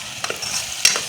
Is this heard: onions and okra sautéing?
yes